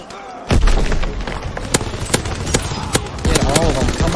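A deep boom from a grenade explosion in Call of Duty lands after a quiet moment, followed by a dense roar of gunfire with repeated sharp shots, and a voice can be heard talking over it.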